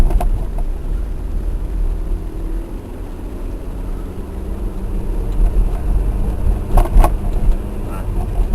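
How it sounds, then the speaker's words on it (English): Inside a Mercedes driving through Warsaw at night, a steady low engine and road rumble goes on throughout, with someone talking over it and a few brief clicks near the end. "I'm now in a Mercedes, which is my favourite car"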